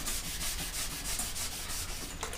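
A painted panel is wet sanded with 320 grit paper, giving a close, steady rhythmic hiss of quick back-and-forth strokes.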